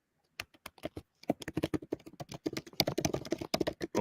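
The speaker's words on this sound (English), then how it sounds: "Oh, she's typing." Keys clatter on a computer keyboard close by in a quiet room. The bursts of typing start sparse and become quicker and denser.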